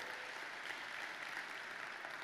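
A conference audience in Rust claps steadily, a dense, even wash of many hands applauding throughout.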